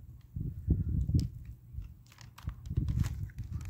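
Close-up crunching and chewing of a crunchy Subway cheesy garlic steak sub, several irregular bites and chews in quick succession.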